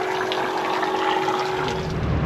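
Water is pumped from a boxed pump through an inline filter into a bladder tank, producing a steady, loud rushing gush with a faint constant whine throughout.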